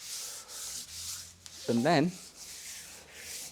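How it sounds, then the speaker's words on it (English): Light, rhythmic sanding strokes rasp steadily across a car body, with a brief voice speaking midway. "Give it a light sanding first."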